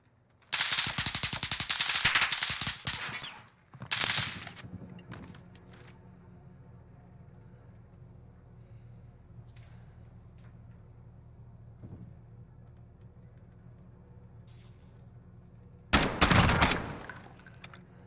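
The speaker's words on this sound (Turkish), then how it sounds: "Oradan sıktı sana." Rapid bursts of automatic gunfire in Call of Duty: Modern Warfare, loud and close, with a long burst at the start, a shorter one after, scattered faint shots, then a final loud burst near the end.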